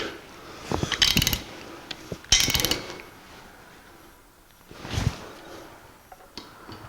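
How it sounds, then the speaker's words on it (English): Torque wrench clicking and ratcheting on bolts during assembly of a 1949 Chevrolet gasser, heard as a few short bursts of metallic mechanical clatter, close and moderately loud, separated by quiet pauses. "They want these bolts torqued to 60 pounds in 3 sequences from 20, 40 to 60 in a crisscross pattern"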